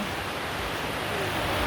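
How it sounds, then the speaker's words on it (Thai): Sea waves wash onto a shallow beach at a hidden cove in Ao Nang, Krabi, a broad steady hiss of surf and wind with no clear individual breaks. "เห็นคลื่นทะเลไหม"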